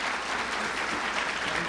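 An audience applauds after two women finish singing a devotional song at a Brahma Kumaris talk, a dense, steady wash of many hands clapping that fills the space evenly from start to end.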